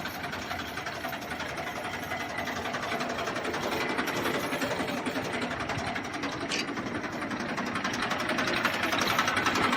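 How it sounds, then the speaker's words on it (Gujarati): A Massey Ferguson 1035 DI tractor engine idles nearby in a steady, fast mechanical chatter that holds a constant level and grows slightly louder toward the end, with no voices. "મેસી દસ પાંત્રીસ ડીઆઈ"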